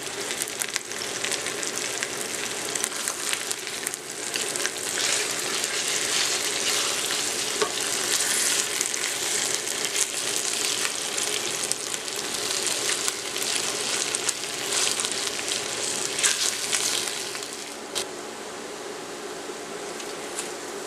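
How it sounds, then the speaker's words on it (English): Chunks of stewed meat browning in a hot pan for carne guisada, a steady dense sizzle and crackle running close and loud throughout, with occasional stirring scrapes and no voices. "Continue turning the stewed meat to brown on all sides."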